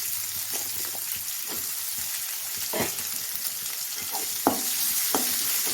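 Onions frying in a pan for vegetable poriyal, a low continuous sizzle with a few sharp stirring scrapes and taps, close and moderate in level, with no talking.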